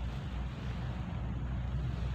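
Rain and wind sweep across an outdoor dahlia flower field as a steady, dense rush of noise with a low rumble, continuous and unbroken throughout.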